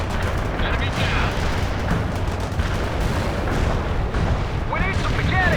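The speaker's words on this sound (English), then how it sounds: "Artillery barrage inbound." Artillery barrage in the World in Conflict strategy game, a dense continuous rumble of booming explosions with rattling gunfire layered over it, loud and sustained throughout, with brief whistling and radio-style voice snippets near the end.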